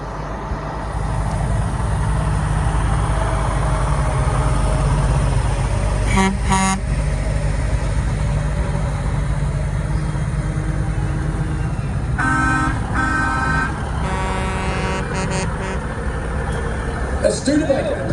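Pre-1980 vintage and classic trucks parade into an arena under steady engine rumble, with short bursts of horn honking midway and near the end while a commentator talks over the scene.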